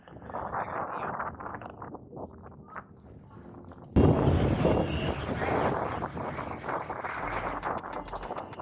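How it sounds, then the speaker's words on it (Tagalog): Strong wind buffeting the microphone while cycling on a road in Batangas, a rushing roar that softens briefly and then surges louder about halfway through, with no speech over it. "Lakas ng hangin."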